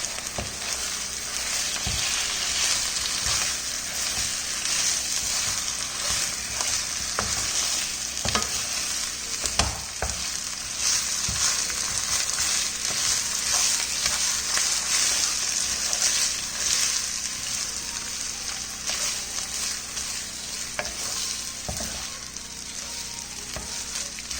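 Fish roe, egg and grated coconut thoran sizzles steadily in a pan while a spoon stirs it, with soft scraping and crackling frying throughout and no talking.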